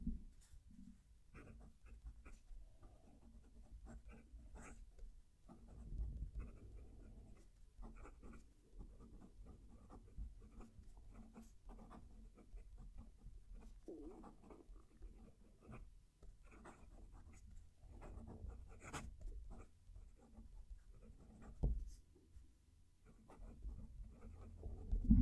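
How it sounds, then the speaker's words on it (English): A Narwhal Nahvalur fountain pen writing on paper, heard up close as faint, steady scratchy strokes with small irregular ticks and rubs that go on continuously. "I'm going to move the mic down to the page so you can hear the pen writing."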